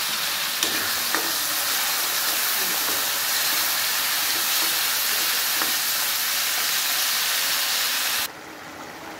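Jackfruit seeds hit a hot pan of spice paste and sizzle loudly and steadily, a dense close hiss that drops off suddenly near the end.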